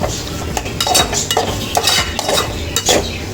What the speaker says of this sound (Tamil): இந்த இறாலையும் போட்டு நல்லா அதை மிக்ஸ் பண்ணிடுவோம்